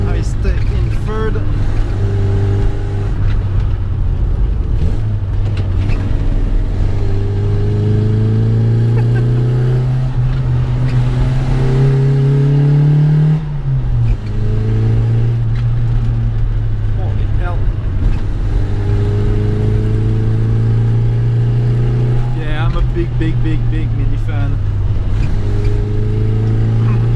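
A 1991 Rover Mini Cooper engine holds a steady drone in third gear on flat road, its pitch rising gradually, dipping sharply, then settling again. The interior sound is loud and continuous, with a voice talking over it.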